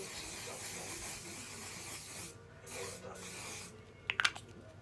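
Makeup setting spray misting: broadband hissing spray with a few quick bursts near the end, close and moderately loud, over a steady background.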